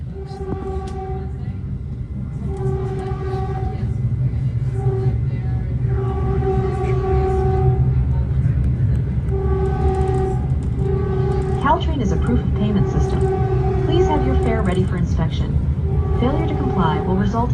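Aboard a southbound Caltrain express, train 518, pulling out of San Mateo Station: a low rumble under steady motor tones that step and glide in pitch as it gathers speed, with a rising whine near the end.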